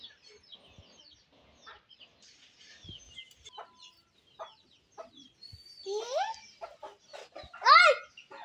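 Chickens cluck softly and intermittently nearby on a farm, with a few louder, sharper calls toward the end.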